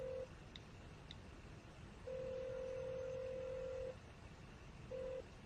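An unanswered phone call rings out, with the ringback tone sounding in long even pulses through a receiver over a low hum, one tone cut off at the start and another beginning at the end.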